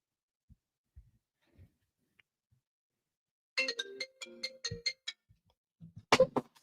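A phone ringtone sounds after a few soft taps and bumps, playing a short melodic run of bright tones at moderate volume, followed by a louder clatter of the handset.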